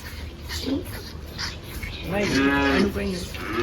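Cattle low and moo close by in a stable in Germany, with a drawn-out moo near the end, while people talk quietly in the background.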